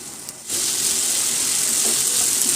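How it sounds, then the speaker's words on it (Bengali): Large potato pieces hit hot oil in a pan and break into a loud, continuous sizzle that holds steady after a quiet opening moment, with no voices. "দেখেন আলুটা কিন্তু আমি ভালো করে ভেজে নিয়েছি"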